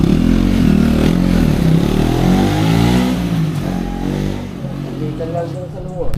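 A new big bike motorcycle revs up nearby, its engine climbing and falling in pitch with a throaty mid-range roar that eases off toward the end, with people talking over it.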